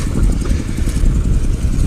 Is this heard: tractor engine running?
yes